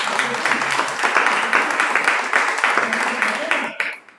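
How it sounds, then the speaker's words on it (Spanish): Congregation applauding Christ during a church service, a steady wash of many hands clapping under a few voices, tapering off abruptly at the end. "Yo quiero que le demos un aplauso a Cristo porque para mí es una victoria."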